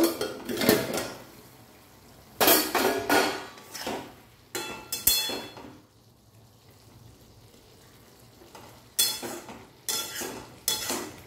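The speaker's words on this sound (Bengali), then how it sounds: "এবারে আমরা কড়াইয়ের ঢাকাটা খুলে দেখব।" A metal lid lifted off a kadai cooking cauliflower and potato rosha, with several sharp clanks and scrapes of metal on metal in separate clusters and quiet gaps between, close by.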